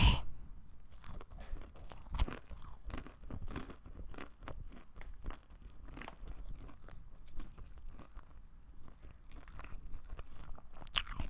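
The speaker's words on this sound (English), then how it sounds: "I will be eating pickles. They're very wet." Crunchy, very wet pickles are bitten and chewed close to the mic, with repeated crisp crunches and wet smacking spread unevenly over a quiet background.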